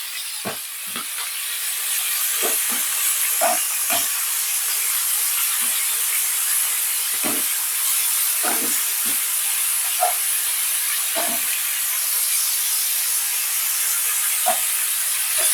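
Meat browning in a pot for Jamaican rice and peas, a steady loud sizzling hiss broken by scattered pops and crackles, close up with no voices.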